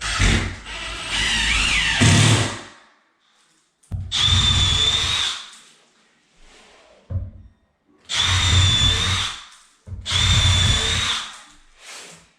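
A power drill runs in four bursts of a couple of seconds each, whining loudly as it pre-drills into 2x4 wood, with short pauses between them.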